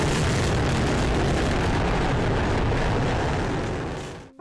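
The Soviet N-1 rocket blowing up shortly after takeoff: a huge, sustained roaring blast of broadband noise, loud and continuous for several seconds before cutting off abruptly.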